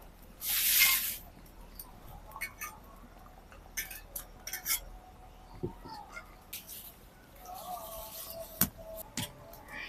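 Jhuri dough for a sweet jaggery snack drops into medium-hot oil, giving a loud, close hissing burst at the start that settles into quieter intermittent sizzles, crackles and a few utensil clinks.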